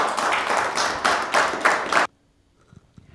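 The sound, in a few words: audience applause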